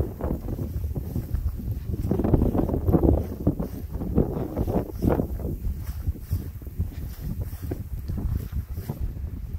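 Strong wind gusting over an outdoor campsite on the Yorke Peninsula coast in South Australia, a loud continuous rushing roar with heavy low buffeting against the microphone and no clear talk.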